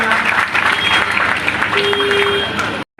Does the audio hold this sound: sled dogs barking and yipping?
no